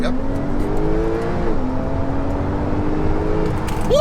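A Porsche 911 Turbo S engine drones loudly from inside the cabin under hard acceleration, its tone rising, dipping briefly at a gear change, then climbing again.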